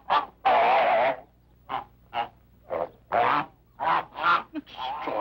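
Loud, nasal bird calls burst out in a run of about nine honks and quacks, some long and some clipped, from nearby waterfowl kept as ducks, with no talk over them.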